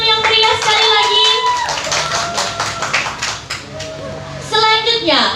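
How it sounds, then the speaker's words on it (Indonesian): An audience at a school Pancasila Day speech contest claps in a loud burst while a host speaks over the applause, which fades briefly and then swells again near the end. "Berikan tepuk tangan yang meriah sekali lagi."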